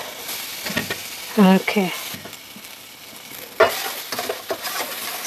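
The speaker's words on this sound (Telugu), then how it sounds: "మనం గ్రైండ్ చేసుకున్న జీలకర్ర మిరియాలు వేసి ఇలా వేసుకుందాం." Ground cumin and black pepper drop into a hot pan and sizzle while being stirred, with bursts of frying hiss and scraping close by and a brief spoken word in between.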